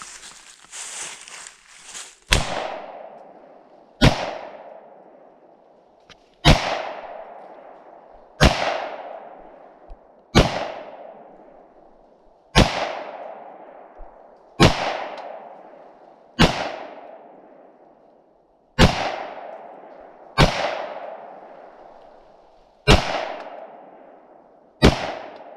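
A CMMG Banshee 9mm fires about a dozen sharp, loud single shots at a steady, unhurried pace, each crack trailing a short echo, with no talk between them.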